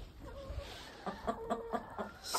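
Several farm roosters clucking and calling in a yard, a string of short rhythmic squawks with a crow-like call coming in at the end, fairly close. No one speaks.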